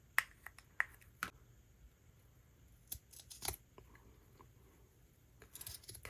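Scissors snipping craft material for holiday boho bead decorations, a few sharp separate clicks and cuts spaced over several seconds, close and fairly quiet with no talk.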